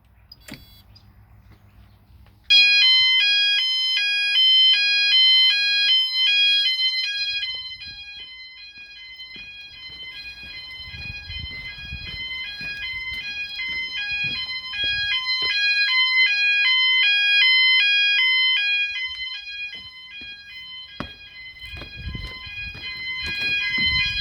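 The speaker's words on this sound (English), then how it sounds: "if I press sound alarms, it'll sound all the sounders everywhere" E.M.S. FirePoint 5004 fire alarm sounders go off all at once, a loud continuous electronic warbling tone that alternates rapidly between pitches and keeps sounding throughout, with faint handling noise underneath.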